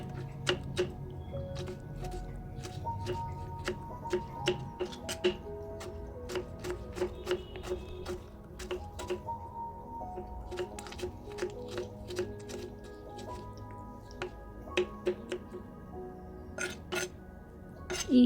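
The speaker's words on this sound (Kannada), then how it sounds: "ಒಂದು ಟೊಮೆಟೊನ ತಗೊಂಡು ನಾನಿಲ್ಲಿ ಸಣ್ಣ ಸಣ್ಣದಾಗಿ ಹೆಚ್ಕೊಳ್ತಾ ಇದ್ದೀನಿ" A knife finely chops a tomato on a board, making a steady run of quick, crisp taps with irregular pauses over a soft, continuous background hum.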